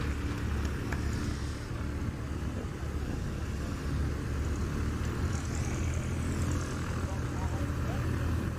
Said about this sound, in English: It's that red and white 2014 Cub Crafters Carbon Cub, powered by a Titan 180 horsepower engine